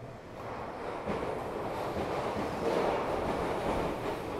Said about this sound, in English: sorry, the train's passing by.